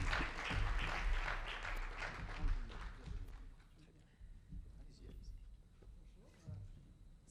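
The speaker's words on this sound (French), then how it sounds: "On les applaudit très fort." A conference audience at a citizen-engagement day opening applauds loudly as two speakers are invited on stage, the clapping dense at first, then thinning and fading over a few seconds as voices and room noise take over.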